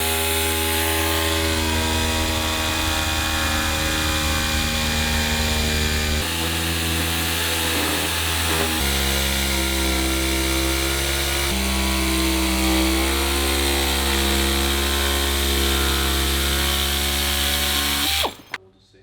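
A power tool cuts into the bumper of a Trans Am WS6 during a turbo build, a loud, steady, continuous grinding whine that holds for most of the stretch, shifting pitch slightly as it works, then stops abruptly near the end.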